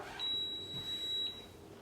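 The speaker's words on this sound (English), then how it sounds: "we're just waiting on our soup maker. It's in its last minute. It's gonna go all sorts of beeping." A soup maker finishing its cycle sounds a high electronic beep tone steadily for about a second, then a shorter second beep follows, clear over a quiet room.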